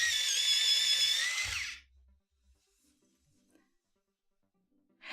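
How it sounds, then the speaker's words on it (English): An electric pencil sharpener grinds a Prismacolor colored pencil in one high-pitched whirring burst of about two seconds, close and fairly loud, then near silence with faint handling sounds and a brief restart at the end. "Give that a quick sharpen."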